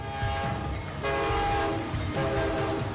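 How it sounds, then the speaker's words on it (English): A train horn blares steadily near a railroad crossing as the train approaches, loud and sustained with rumbling rail noise underneath, the horn tone swelling in repeated long blasts. "And a train is coming."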